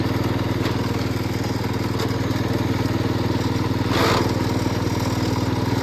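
A Cub Cadet 122 lawn tractor engine labours in gear, a steady mid-pitched drone with a brief louder surge near the end, close and continuous with no talk.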